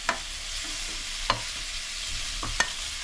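Chilli powder is stirred into a pan of crab curry, a soft continuous sizzle broken by three sharp clinks of a spoon against the pan, close and alone without voices.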